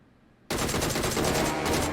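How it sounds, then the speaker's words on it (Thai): MR rifle gunfire in a shooter game, bursting in abruptly after a quiet moment as a loud, dense rapid volley of close shots that keeps going to the end. "ใช่ไหมผมโดนเอ็มอาร์ยิงปะ"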